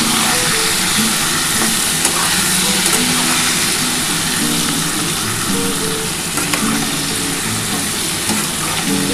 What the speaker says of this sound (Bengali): এবার এটা ভালো করে একটু ভাজা ভাজা হয়ে গেলে আমি এর মধ্যে আলুটা দিয়ে দেবো।